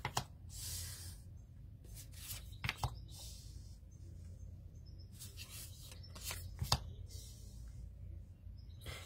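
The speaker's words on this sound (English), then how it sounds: "let's lay down some cards" Tarot cards from an Earth Woman deck are laid down on a table in quiet, close, soft slaps and papery slides, a few brief sharper taps standing out between gentle rustles.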